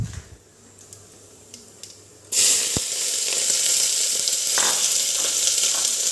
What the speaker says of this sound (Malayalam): ഒന്നായി വരുമ്പോഴത്തേക്ക് നമുക്ക് സവാള കാര്യങ്ങളെല്ലാം കൂടി ഇടേക്കാം